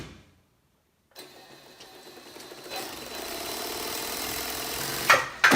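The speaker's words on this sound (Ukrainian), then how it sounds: "Пробуємо шити." A Brother Exedra straight-stitch sewing machine under repair starts up after a pause, its motor whirring and needle mechanism clattering rapidly, building to a steady fast sewing hum before a few sharp knocks at the end.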